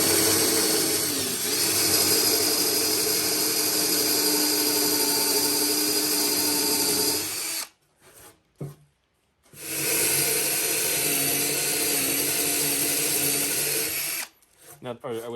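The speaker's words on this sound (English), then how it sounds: "I'm going to start with the Forester because it does a cleaner cut" A drill with a Forstner bit bores through a cedar board in two long, steady whining runs, separated by a brief pause with a few short bursts, then cutting off near the end.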